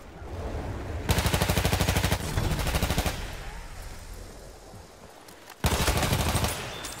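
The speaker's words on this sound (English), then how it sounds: "Machine gun." Bursts of fully automatic machine gun fire in a first-person shooter video game, two long rapid rattling volleys with a quieter gap between them, loud and close.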